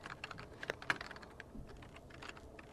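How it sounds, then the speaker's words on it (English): Soft, quick keystrokes on a computer keyboard tap out an irregular run of clicks, faint and close, with a few sharper key presses standing out and no speech. "I would type in the name of the executable"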